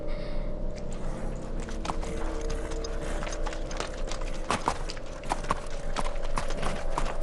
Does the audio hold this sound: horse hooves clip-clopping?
yes